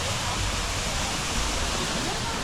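Artificial waterfall at Fansipan mountain, a steady broadband rush of falling water with no breaks, moderately loud and alone.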